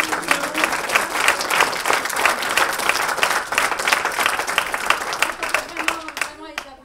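An audience claps after a theatre troupe's performance, dense, lively hand clapping with a rhythmic pulse that carries on steadily, then thins out and fades at the end, with voices mixed in.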